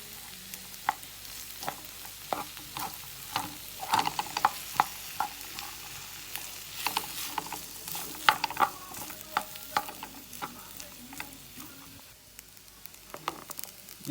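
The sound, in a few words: stirring rice frying in oil for Jamaican fried rice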